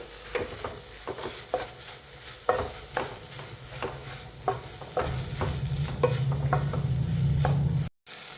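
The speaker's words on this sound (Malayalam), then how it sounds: "ഇതൊന്ന് നന്നായിട്ട് ഇളക്കി യോജിപ്പിച്ച് കൊടുക്കാം" Soya chunks being stirred with salt in a pan for an egg pepper roast: repeated scraping strokes of a spoon against the pan over a low sizzle, steady and close, with no voices.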